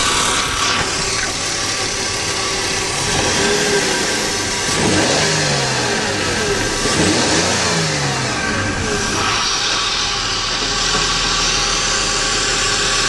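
A high-mileage Chrysler 2.7 L engine runs steadily close by, with a couple of rising and falling revs in the middle before settling back to a smooth idle.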